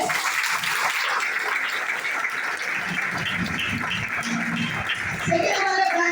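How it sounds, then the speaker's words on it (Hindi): Audience applause at a business plan meeting in Dombivli, a steady dense wash of many hands clapping throughout, loud and continuous with murmuring voices mixed in. "आपकी जोरदार तालियों से एनिमल वेलनेस"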